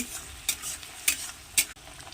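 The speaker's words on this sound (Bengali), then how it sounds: "তেলের উপরে শুটকি মাছগুলো দিয়ে দিলাম, দিয়ে একটু ভালো করে নেড়ে নেব।" Dried fish sizzles in hot oil in a pan as a spatula stirs them, with three distinct scraping strokes standing out over the steady frying hiss.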